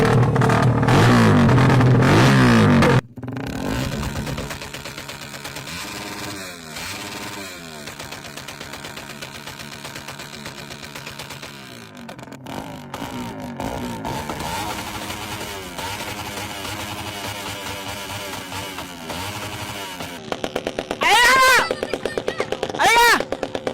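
A Suzuki Raider 150 FI motorcycle engine revs loud and close, with a harsh popping burst at the start, then a sustained rising and falling engine drone and sharp revving blips near the end, with people talking.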